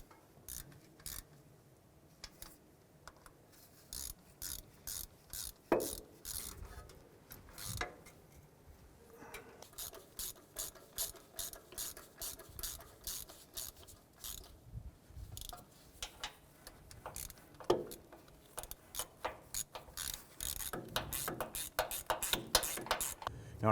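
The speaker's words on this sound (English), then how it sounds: "We're gonna go ahead and snug these down." A hand ratchet clicks in quick, uneven runs of short ticks while snugging exhaust manifold bolts on a 2004–2009 Dodge Durango, close and fairly quiet, with pauses between bursts and faint shop background.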